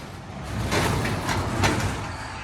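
A sliding garage door on a sturdy lofted garage shed being operated, a rolling rumble and rattling scrape that swells and fades over a couple of seconds, close and without talk.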